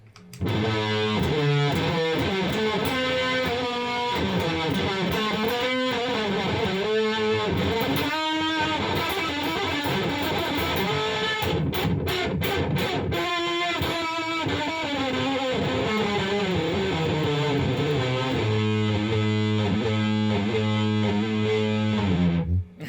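Guitar played through a Boss SY-1 synthesizer pedal with a thick fuzz effect, distorted sustained notes and chords ringing out continuously and loudly, with no voices.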